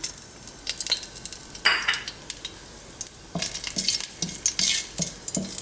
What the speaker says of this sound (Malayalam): എണ്ണ ചൂടായിലേക്ക് പട്ടയും ഗ്രാമ്പും ഇടണം ആദ്യം.